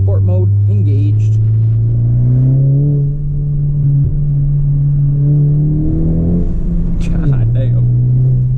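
A 10th-gen Honda Civic Si with a loud turbo and exhaust setup accelerates in sport mode, its engine drone rising steadily in pitch, then dipping at a shift and climbing again, loud and close, with a voice speaking over it.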